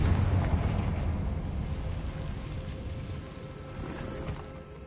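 A Confringo spell explosion in a video game opens with a loud, low boom that rumbles and fades over several seconds, with no voices.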